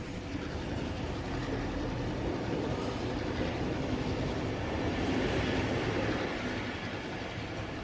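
A train in New South Wales rolls past with a steady, broad rumble that holds at an even, moderately loud level throughout, with no voices.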